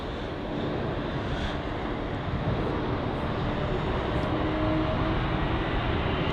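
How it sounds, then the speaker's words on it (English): A Brussels Airlines Airbus A320 in special livery departing London Heathrow, a loud, continuous broadband jet roar that builds slightly and holds steady throughout, with no voices. "got the Brussels Airlines A320 featuring the Smurfs livery. And so yeah, this here is going off to Brussels"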